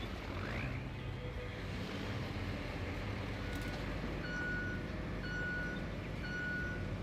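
A truck reverses in the off-road driving game Road Craft, sounding a thin electronic beep that repeats about once a second, faint and fairly distant, over a constant low engine and ambient rumble.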